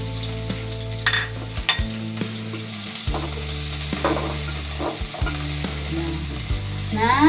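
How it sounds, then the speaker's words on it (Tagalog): Vegetables for pancit sauté in a hot pan, a steady loud sizzle running throughout with clinks and scrapes of stirring and a few sharper spatters, no voices over it. "Igisa natin yung ating gulay."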